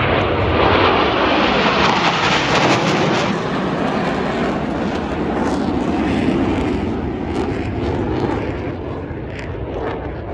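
Blue Angels jets roar past at the Mid-South Airshow in Millington, Tennessee, a loud, close, sustained rumbling engine blast that swells and slowly fades while taking off or landing, with no talking.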